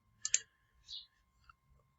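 Computer mouse clicks while deleting a table in a word-processing lesson: a quick double click near the start, then a few fainter isolated clicks, close and alone.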